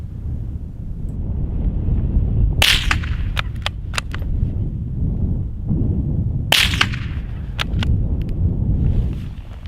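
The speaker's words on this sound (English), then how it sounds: "you can really hear the supersonic bullet whiz through the frigid air" Two suppressed Savage MKII .22LR rifle shots in frigid outdoor air, each a sharp crack with a supersonic bullet whiz, followed by fainter tails and ringing impacts, spaced about four seconds apart over steady wind noise.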